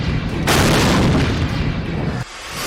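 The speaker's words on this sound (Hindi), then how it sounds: "आसमान में ही हुआ ड्रोन में विस्फोट" A drone explodes in the sky over Moscow, a sustained loud rumbling boom that rolls for about two seconds, then drops away to quieter background noise.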